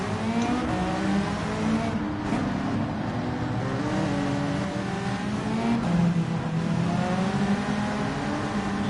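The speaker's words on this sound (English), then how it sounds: "Mazda, you got to rev the fuck out of it." Mazda race car engine revving hard and continuously in Gran Turismo 7, a loud steady drone with shifting pitch throughout, no speech over it.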